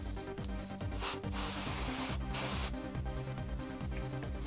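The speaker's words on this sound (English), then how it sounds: "For the wheels, on the other hand, the centre of the hub is sprayed" Spray paint or an airbrush hissing onto the wheel hub centres of a model cart for a diorama, in short and longer bursts of steady close hiss over a faint background hum.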